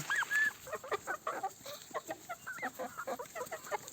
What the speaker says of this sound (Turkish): Bu damızlıq toyuğumdur.